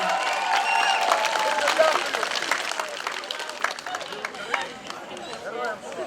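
Audience applause for a girl in a flower wreath and embroidered shirt at a Trinity (Green Holidays) celebration: a steady, dense wash of clapping from a crowd that carries on for several seconds with a murmur of voices beneath.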